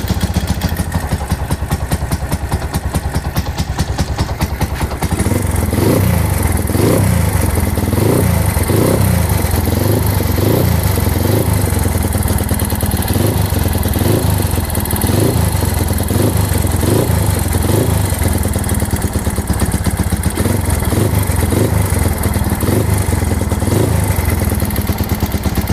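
A Honda Megapro motorcycle engine revs repeatedly in close, loud bursts over a rough idle, with a harsh metallic rattling from the cylinder head throughout.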